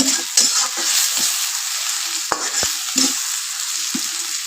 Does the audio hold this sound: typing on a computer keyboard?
no